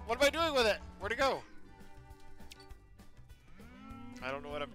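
Cartoonish cows in the space cowboy video game Cowmets moo in long, wavering bursts at the start and end, with game music and a player talking between the calls.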